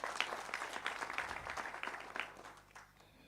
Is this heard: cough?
no